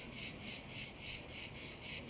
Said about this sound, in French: il y a les cigales qui chantent